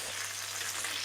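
Chicken pieces browning in a pan for a crispy garlic and lemon chicken dish, a brief steady close sizzle with no talk.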